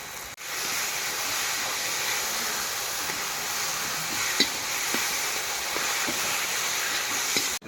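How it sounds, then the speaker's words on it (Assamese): Potato pieces fry in a pan with roselle leaves, giving a continuous close sizzle with a soft hiss and a few faint clicks of stirring, heard alone. "আলু দি পেলাই টেঙামাৰাৰ লগত ধুনীয়াকৈ ভাজি আছোঁ"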